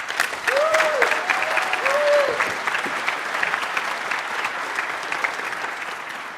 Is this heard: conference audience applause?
yes